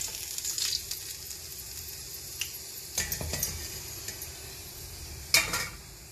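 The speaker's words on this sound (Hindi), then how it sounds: "अभी इसी तरह से बाकी के भी फ्राई कर लेते हैं" Stuffed spiny gourd (kakrol) shallow-fries in oil with a soft, steady sizzle, punctuated by occasional clinks and scrapes of a utensil against the pan.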